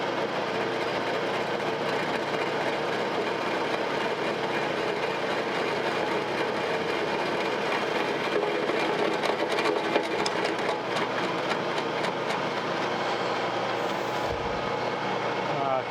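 A milling machine cutter chatters and bounces while cutting across the cross head journals of a steam stoker engine under restoration, a loud, steady grinding and whirring that runs unbroken throughout.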